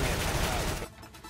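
Rapid gunfire from the video game CS:GO, a loud, dense burst of shots for under a second, then a quieter tail with a couple of fainter reports.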